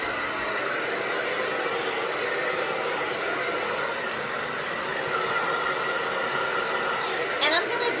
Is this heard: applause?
no